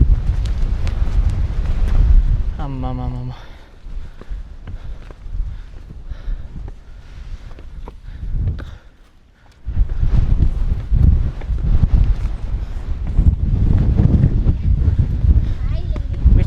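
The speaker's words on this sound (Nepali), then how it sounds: "हावा त के साह्रो चलेको हो।" Strong wind buffets the microphone on an open hillside during a hike at Pen y Fan, a loud continuous roar that dips briefly midway, with a person speaking briefly over it.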